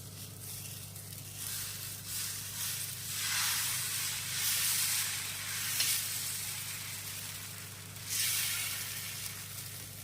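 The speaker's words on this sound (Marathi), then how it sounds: "आता आपण वाटीने डोसा घालूया।" Ragi millet dosa batter sizzles steadily on a hot pan. The hiss swells in a couple of louder surges over a low constant hum, and no one speaks.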